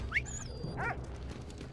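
A dog in the video game Valiant Hearts: The Great War gives short, faint whimpers and a high whine over a low steady game background, with no talking.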